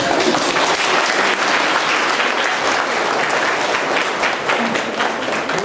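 Steady, loud applause from a crowd of students clapping for a girl named Julia at a school gathering, continuous and dense throughout.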